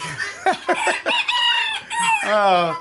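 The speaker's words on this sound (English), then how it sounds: "If you're thinking about getting guineas, this is what they sound like." Guinea fowl call nearby in a series of harsh, rapid cackling notes followed by a longer raspy squawk, loud and close.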